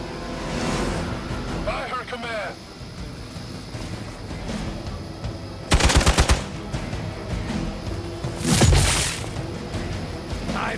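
Rapid machine-gun bursts in Midnight Suns, fired around a HYDRA helicopter: two loud, tight volleys of clattering shots stand out over a busy bed of engine drone and combat noise, with voices heard in between.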